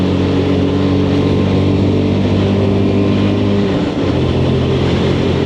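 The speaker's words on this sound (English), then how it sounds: "Get through the box as quick as we can, build those revs and back up and up into top gear" Lexmoto LXS motorcycle engine revving hard and shifting up through the gears, a loud steady drone with stacked harmonics that dips briefly at a gear change before climbing again, close and continuous with no talk.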